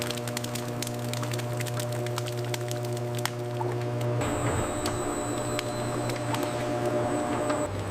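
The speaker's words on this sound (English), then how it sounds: "Powerful mechanisms transform crisp apples into a uniform, coarse mash" Factory machinery grinds green apples into coarse mash, giving a steady mechanical hum with tonal drones that shifts partway through into a harsher, noisier whir with a high whine.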